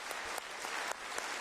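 Applause from a parliamentary audience during a standing ovation, a steady, dense wash of many hands clapping close by, with no voices on top.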